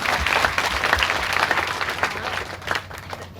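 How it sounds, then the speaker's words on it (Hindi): A crowd at an Indian Inclusive Party public meeting in Sahebganj applauds a young man with dense, steady clapping that fills the whole stretch without pause. "एक बार इस लड़के के लिए ताली बजाइए सारा"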